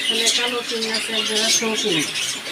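Caged birds, yellow Bombay-type finches among them, chirp and tweet in a busy bird shop at a market, with steady close calls running under a voice.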